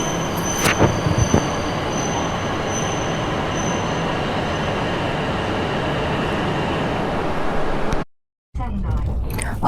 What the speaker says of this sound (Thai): เราก็ เดินทางจากสถานีอูเอโนะนะคะ ด้วยชินคังเซ็นคันนี้ค่ะ